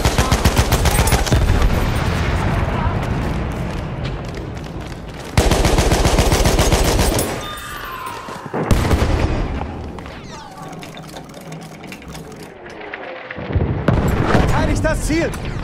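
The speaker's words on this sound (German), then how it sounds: "Feindliche Artillerie!" Enemy artillery and gunfire in a Battlefield 1 Conquest Assault match: rapid machine-gun bursts, sharp rifle shots and heavy booms crowd the battlefield, loud and near, with shouted voices mixed among the firing.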